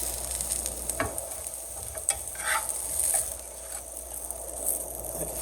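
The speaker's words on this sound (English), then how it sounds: "now I'm just going to put it in the center of the pan" Food frying in a pan as cheese melts, a continuous close sizzle broken by a few sharp clicks and scrapes from turning it, with no talking.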